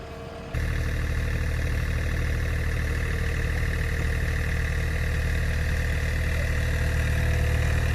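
A John Deere tractor engine runs steadily while snowblowing on ice, a loud, constant droning rumble starting abruptly and holding without a break, no voices over it.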